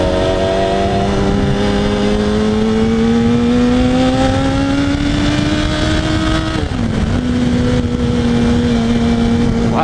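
A Yamaha R1 sport motorcycle engine drones loud and close throughout while being ridden, its pitch climbing steadily in one long pull, dipping briefly near the end, then holding a steady roar.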